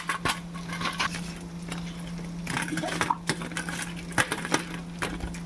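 Crispy semolina snack being flipped and turned in a frying pan over high heat, with a steady sizzle under scattered sharp scrapes and clatters from the turning.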